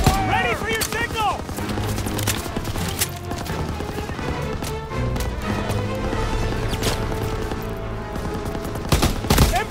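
Suppressive gunfire rattles through a Call of Duty WWII battle on Hill 493, a dense, continuous fusillade of overlapping rifle and machine-gun shots. Shouted voices of soldiers break through the noise.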